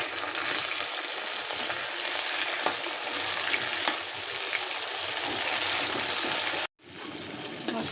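Salted hilsa fish sizzles and fries in hot oil for a bean curry, a dense, loud, steady crackle that runs unbroken, cuts out briefly near the end, then resumes.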